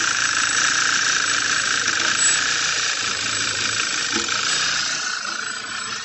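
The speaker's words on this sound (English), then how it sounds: "I can't believe this thing is running though. It's misfiring pretty bad." An Audi B8 A4 Avant engine runs rough with a bad misfire, a loud uneven droning idle with rattly vibration that carries steadily throughout and fades slightly toward the end.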